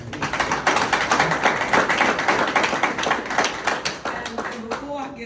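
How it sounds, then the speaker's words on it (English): An audience at a Saxton event with Mayor Parker claps loudly and steadily in rapid, dense beats that hold for several seconds, then begin to thin near the end. "Give him a round of applause, please."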